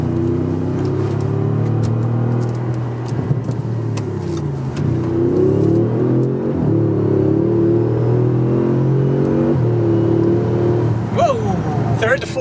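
A tuned Audi S6 running Unitronic Stage 1+ software accelerates hard through the gears on a highway. A loud cabin engine roar climbs steadily, breaks briefly at an upshift, then pulls on again, while voices talk over it.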